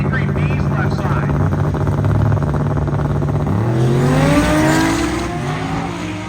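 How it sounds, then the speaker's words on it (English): Drag racing cars launch down the strip at Byron Illinois Dragway, a loud, steady engine drone rising in pitch as the cars pull away, with a high buzzing note and a commentator talking over it. "Yeah, the car that sounds like a group of angry bees left side."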